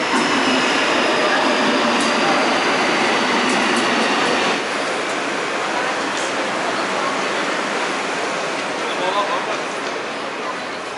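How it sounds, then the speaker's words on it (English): An Istanbul metro train rolls into Gayrettepe station with a steady, loud broadband roar and rattle, brakes hissing faintly as it slows, with some talk in the background. "So here comes the train."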